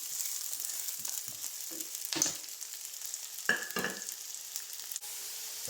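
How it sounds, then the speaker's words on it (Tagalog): Onion and garlic sauté in a pan for pork adobo, giving a soft, steady sizzle with a few sharper stirring scrapes. "Hintayin lang natin mag light brown at malanta ang ating sibuyas at bawang"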